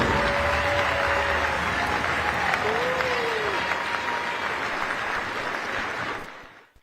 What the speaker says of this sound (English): Let's give a huge Cardinal round of applause to these outstanding seniors